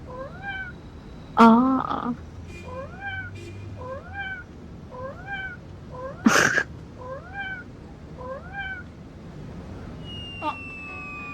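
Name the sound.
cat meowing in video game Butter Cat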